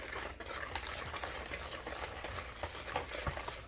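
A spoon or whisk stirs runny apple sonker batter made with milk in a bowl, producing a soft, steady wet swishing and light patter throughout.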